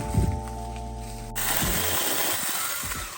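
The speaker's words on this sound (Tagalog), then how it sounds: "gamitin natin itong electric chainsaw" An 8-inch electric chainsaw whines at a steady pitch, then shifts into a rough, noisy cutting sound as it bites into wood, close and fairly loud.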